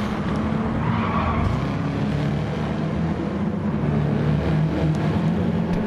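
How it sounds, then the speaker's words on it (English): Tyre squeal from a race car in a GT touring car race at Autopolis, a loud continuous screech over steady engine roar, heard up close with no talk. "Just hear a car tyre squealing in pain"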